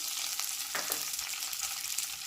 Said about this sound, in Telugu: పోపులు కాస్త ఫ్రై అయిన తర్వాత జీడిపప్పు కూడా వేసి ఫ్రై చేయాలి